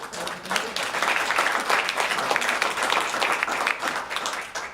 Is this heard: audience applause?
yes